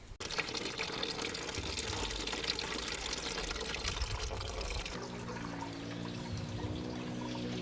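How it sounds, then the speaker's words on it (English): Coolant pours from a car radiator with the cap open, a steady splashing stream that shifts to a higher trickling fill toward the end. "I actually need to remove the coolant. Make sure to keep the cap open so that the coolant can fall freely."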